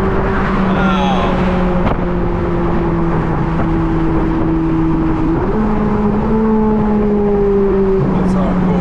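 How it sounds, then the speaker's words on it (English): A car engine spins at high, steady revs with a Ferrari 458-like howl, its pitch holding level then stepping up briefly before dropping, loud and close under a constant road roar. "That engine is just spinning."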